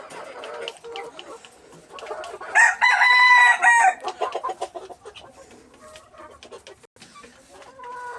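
Caged farm chickens cluck in short bursts, and a rooster crows loudly and clearly partway through. Faint voices and other farmyard noise sit in the background.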